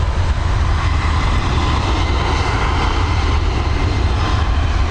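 Airliner engines roar steadily at Dublin Airport, a loud, continuous broadband rumble with strong low-end that holds without a break and has no talk over it.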